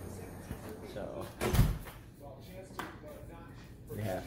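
A door in a house is shut with a single solid thump, close and fairly loud, against a low background hum and faint room noise.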